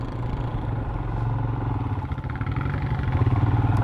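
A small, low-budget motorcycle being ridden, its engine droning steadily and close with a rough, pulsing tone that grows slightly louder toward the end, no voices.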